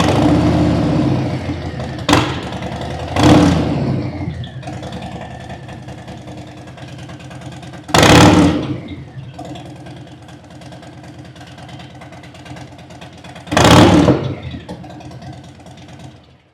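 A 2025 Harley-Davidson Street Bob V-twin idles with its exhaust removed, a raw, lumpy rumble broken by several sharp throttle blips that rise loudly and then fall back to idle.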